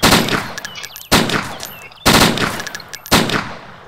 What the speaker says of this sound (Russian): я в него все выстрелы, что ты слышал, вот, со спортера, все в него входило